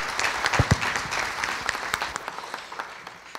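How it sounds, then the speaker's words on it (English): An audience applauds the participants of a diversity panel at a red carpet event, with a few sharp nearby claps standing out over a mid-sized crowd's steady clapping that gradually thins out. "If we could give all of our participants another round of applause"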